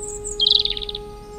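A sparrow gives a quick, bright chirping trill in the morning, close and distinct over a low steady hum.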